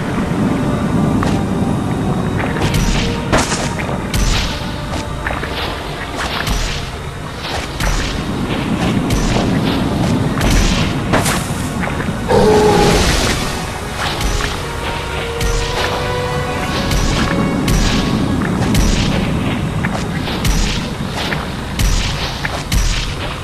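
Bombs go off during a Spider-Man 3 video game fight, a run of repeated booming blasts and crashes over a dense, rumbling game soundtrack, loud and close throughout.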